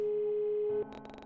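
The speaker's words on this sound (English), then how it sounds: "The dial tone persisted for a while, but there was no answer on the other end" A telephone tone sounds during an outgoing call that goes unanswered: a steady, loud electronic tone holds for most of a second, then cuts off into softer, broken tonal pulses.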